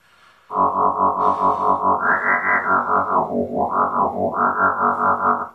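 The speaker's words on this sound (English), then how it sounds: "it's a sine wave LFO and a sine wave VCO" A buzzy tone from a bC8 nano synth, a sine-wave LFO modulating a sine-wave oscillator, warbles with a fast, regular wobble, holding steady then sliding up and down in pitch, loud and alone.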